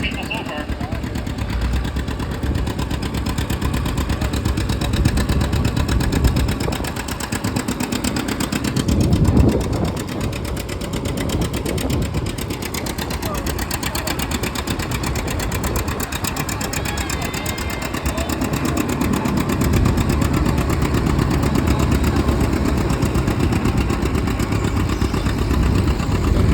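A tractor engine roars steadily through a tractor pull run, loud and sustained with a surge in the middle, while a commentator talks over it.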